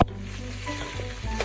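Potatoes cooking in a pot for sopa de fideo, a soft continuous sizzle and bubbling heard up close, with a low steady hum underneath and no talking.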